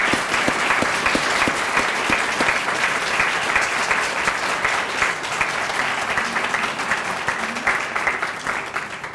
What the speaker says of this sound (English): Can we give one more round of applause to our recipients?